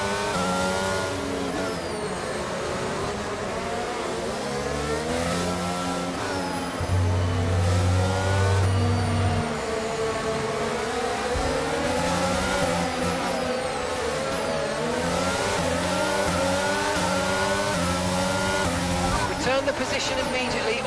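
Race cars in the F1 22 video game accelerate as the field restarts after a safety car period, a steady, loud engine roar with rising revs under a speaking voice throughout.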